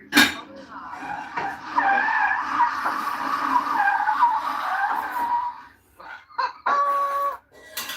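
Car tires skid in a long screeching slide lasting several seconds, then break into shorter squeals, close and loud, with someone talking briefly.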